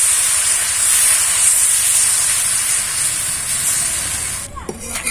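Patishapta pitha batter poured onto a hot, oiled griddle gives a loud, continuous hissing sizzle that lasts throughout, with a brief clatter near the end.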